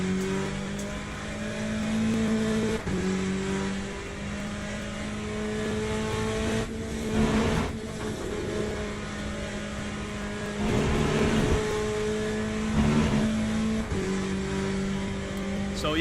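Race car engine in the LeMans Ultimate sim racing game played in VR, a steady high revving drone with repeated shifts in pitch as the car accelerates and brakes, loud and continuous with no talk.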